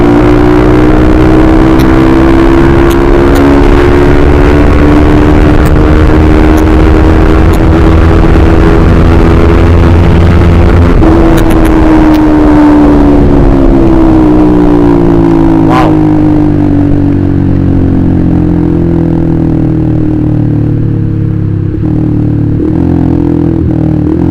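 A Honda CBR150R motorcycle engine hums loud and close while riding on a road, a steady droning tone that rises and falls in pitch as the bike speeds up and eases off, with constant wind rush throughout.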